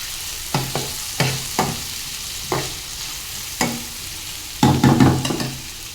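Chicken and sliced bitter gourd (karela) fry in a pan with a low sizzle under repeated sharp knocks and scrapes of a spatula, spaced irregularly and ending in a quick cluster of strokes, close up with no talking.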